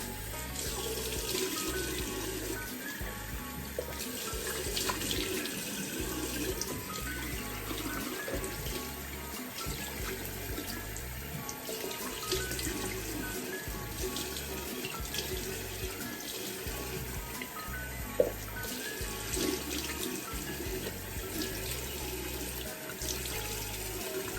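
Cool tap water runs steadily into a sink while a face is rinsed after washing, a continuous close splashing stream with small irregular spatters and no talking.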